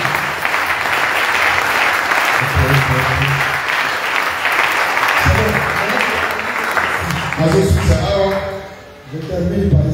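A church congregation applauds loudly and continuously, dense clapping filling the whole stretch, with a voice and some musical tones rising over the applause toward the end.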